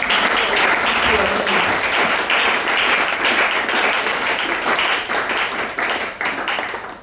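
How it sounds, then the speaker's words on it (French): A church congregation at a Friday seminar service applauds loudly and steadily for several seconds, sustained dense clapping filling the room with a few voices mixed in. "Est-ce que nous pouvons acclamer très fort pour le nom de Dieu?"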